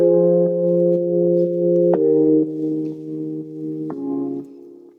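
A clean, round pluck synth layered with a jazz guitar patch in Nexus plays sustained chords for an Afro house drop, with soft plucked attacks, changing pitch every couple of seconds, without any voices.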